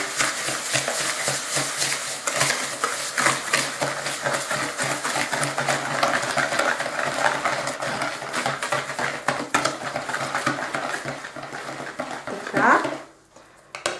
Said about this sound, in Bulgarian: След това ще разбъркам.